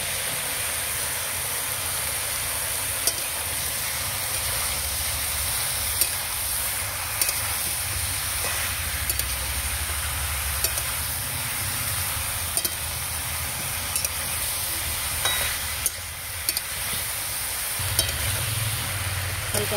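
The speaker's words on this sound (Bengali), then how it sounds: "এবার লাউ আলু দিয়ে দেবো।" Bottle gourd and potato pieces are stirred in a hot pan of chicken stew, giving a steady sizzle and frying hiss with scraping stirs across the whole stretch, no talking.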